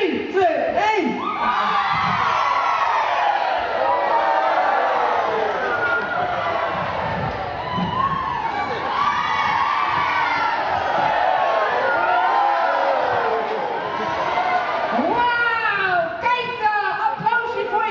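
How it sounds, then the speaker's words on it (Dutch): A crowd shouts and cheers loudly and continuously at an acrobatic gymnastics performance by an all-girls troupe, a dense wall of whoops and yells lasting the whole stretch. "Een beetje geschreeuw, een beetje gejubel."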